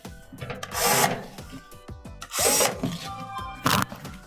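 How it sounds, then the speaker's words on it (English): Bottom screws being backed out of a Frigidaire dryer panel with a power tool, several close bursts of whirring and grinding separated by brief pauses, with rattling and scraping between them. "Remove the 3 bottom screws."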